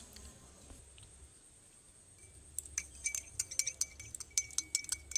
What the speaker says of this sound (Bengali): জলের মধ্যে যেভাবে আমরা শুকনো গ্লুকন ডিগুলো দিয়ে জলটা গুলে খাই সেরকমভাবে দিয়ে কিন্তু গুলবো